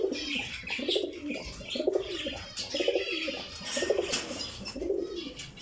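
Black-tailed pigeons coo in a home bird setup, a steady run of soft, low, rolling coos repeating about once a second, close and clear with faint chirps behind.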